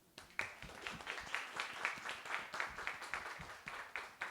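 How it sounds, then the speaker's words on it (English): Faint audience applause at the European Youth Event 2023 grand finale in the European Parliament, a thin patter of scattered hand claps with sharp individual slaps, heard at low volume throughout. "A round of applause, please"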